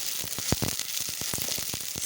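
Leafy managu onions frying in a pan while being stirred, with a close, soft sizzle broken by several scraping strokes over two seconds.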